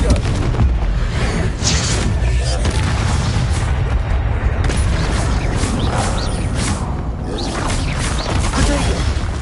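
Confringo explosive spells blasting in Hogwarts Legacy, a dense, continuous barrage of loud booms and crashing impacts filling the whole stretch with no pause, voices buried in the din.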